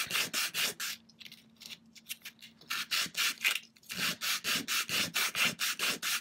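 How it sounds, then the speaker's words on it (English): Rapid rhythmic rasping strokes of sanding a plastic bead, close and loud, briefly softening in the middle before resuming the steady back-and-forth. "as I sand to ensure that I get an even sanding on it"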